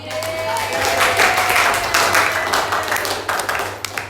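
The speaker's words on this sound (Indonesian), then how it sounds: "Beri tepuk tangan dulu tuh" Students in a maths classroom clap together after a correct answer, a short ragged burst of hands close by that thins out into scattered claps toward the end.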